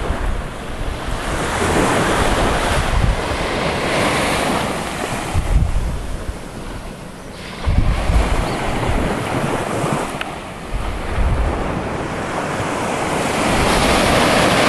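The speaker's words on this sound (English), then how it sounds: "I'm just going to give you a nice final shot of the beach" Surf breaking on Darkwood Beach in Antigua, a steady roar of waves rolling in and washing up close by, with gusts of wind buffeting the microphone throughout and a few heavier breaking surges.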